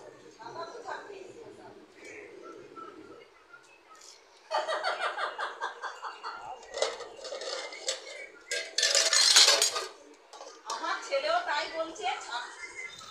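A meal of water-soaked rice with onion, green chili, fried egg and fried chops is eaten from plates: repeated clinks and scrapes of utensils and dishes, close by, with talking and light laughter.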